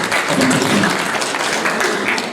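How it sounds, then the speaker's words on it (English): Sustained, dense applause from an audience at a political parties dialogue, loud and steady throughout, with a few voices mixed in. "Let's give him a big round of applause, please."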